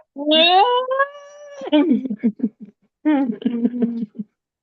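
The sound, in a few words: cat meowing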